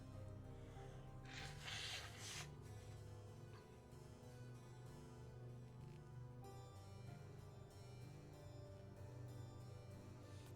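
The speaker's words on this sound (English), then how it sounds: "I have to blow my nose." A nose is blown in one rough, breathy burst lasting under two seconds, close but muffled, with steady background music continuing throughout.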